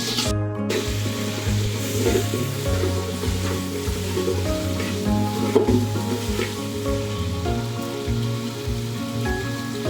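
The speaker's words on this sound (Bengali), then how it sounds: "এখন আমি এটাকে মিক্স করব এবং সুন্দর করে একটু ভেজে নেব" Ginger-garlic paste frying in a pan while being mixed for a roast, a loud steady crackling sizzle like rain on a surface with occasional stirring scrapes, close up and without speech.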